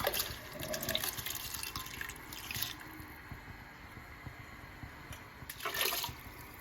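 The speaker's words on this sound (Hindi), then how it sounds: "मैंने इसमें चावलों का पानी डाल दिया है" Water runs and splashes into a cooking pot of rice for chicken yakhni pulao, a steady faint trickle with a louder gush at the end, no talk.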